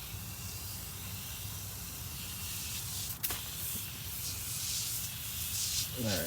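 Cleaner sprays onto a Detroit Diesel 671 engine in a 1947 bus as a steady, fairly faint hiss, with a brief click partway through and a slight rise in the spray noise near the end.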